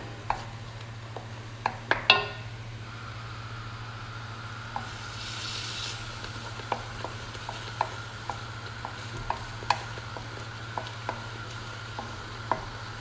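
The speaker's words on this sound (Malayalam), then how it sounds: "തക്കാളിയും ഈ മസാലയും കിടന്നൊന്ന് നന്നായിട്ടൊന്ന് വെന്ത് വരട്ടെ" Tomato and masala cook in a pan for a Kottayam-style fish curry, a low steady sizzle with a constant hum beneath and a series of light ladle taps and scrapes spaced every second or so.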